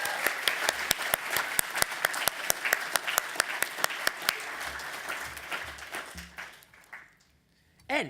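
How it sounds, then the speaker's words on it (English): Audience applause fills an awards ceremony hall, dense steady clapping with sharp individual claps standing out, sustained for several seconds before fading away near the end. "so we just give them a massive round of applause."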